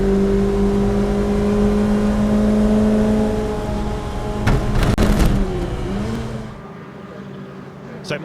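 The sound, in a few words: Lotus Elise race cars racing at Donington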